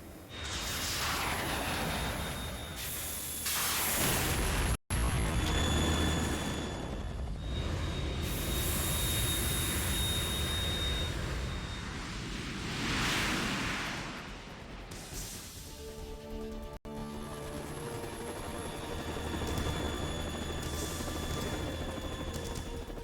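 In the Metal Gear Solid 2 video game, a Harrier jump jet and a Kasatka helicopter roar continuously, with engine drone, swelling whooshes and a couple of sharp impacts, loud throughout.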